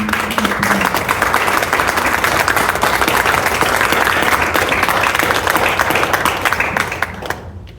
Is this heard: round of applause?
yes